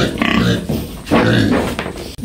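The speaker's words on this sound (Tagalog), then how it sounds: "Laki ng baboy nito." Large pig grunting on a rural farm in the Philippine countryside, a couple of loud, close, rough grunts with short pauses between them, heard alone without talk.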